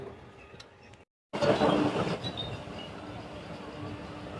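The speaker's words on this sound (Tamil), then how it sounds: "இப்போ நம்ம பார்க்குறதாங்க வந்தே பாரத் ட்ரெயினுங்க" A Vande Bharat train rumbles through an Indian railway station, a steady loud rolling rush that swells suddenly after a brief silence and then holds, with faint clatter beneath.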